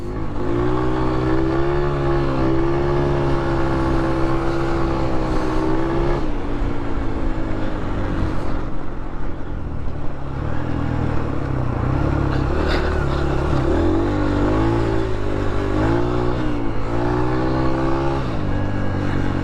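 Motorcycle engine revving hard through the gears, high in the rev range in fifth gear, while ridden along a bush trail; a loud, steady, close-up engine drone with rising and falling pitch throughout.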